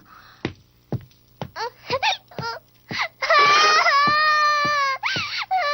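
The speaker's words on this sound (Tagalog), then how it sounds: "Ba't bigla kang umiyak?" A young girl in a Tagalog-dubbed anime cries, starting with short sobbing gasps that build into a long, loud, wavering wail, close and alone.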